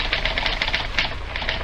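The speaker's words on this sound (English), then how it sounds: "the irrepressible Judy Price, his secretary, is typing a letter" Typewriter keys clacking in quick irregular bursts as a secretary types a letter in a doctor's office, close and steady with no talking.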